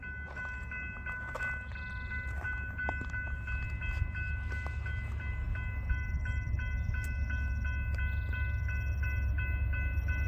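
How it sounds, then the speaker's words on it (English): A northbound BNSF mixed freight train with three locomotives passes, a loud steady rumble of rolling cars under a sustained multi-tone horn that sounds through most of the passage. "Northbound BNSF mixed freight. Three locomotives."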